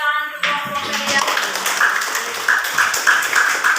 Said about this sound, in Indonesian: Kita tepuk tangan untuk kelompok kalian.